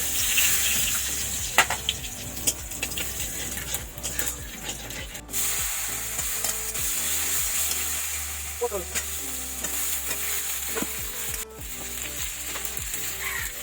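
Vegetables and raw cumin seeds frying in oil in a pan used just before for fish, a loud steady sizzle and crackle with repeated stirring scrapes and clatters of a utensil, close and unaccompanied by speech.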